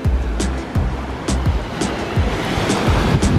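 Ocean waves breaking on a beach in Waterford, Ireland, arriving as a steady run of loud, close crashes with rushing wash and wind buffeting the microphone.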